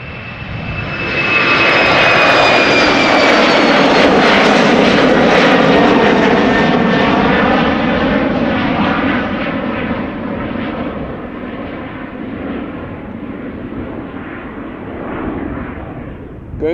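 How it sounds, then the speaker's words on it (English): An airliner arrives on the center runway at Schiphol Airport with a loud, close engine roar and a falling whine that peaks early, then slowly fades as it rolls away. "Arrival on the center runway."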